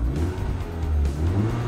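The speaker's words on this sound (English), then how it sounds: "starting up the new Mini is a pretty normal procedure" A new MINI Cooper with a direct-injected engine starts and settles into a steady, smooth idle, a continuous low rumble with no pops or burbles, fairly close and alone.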